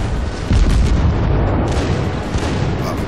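Cruiser guns on the Tier 2 Japanese cruiser Chikuma fire shells in World of Warships with heavy booming blasts. Several close, loud salvos follow one another over a constant rumble.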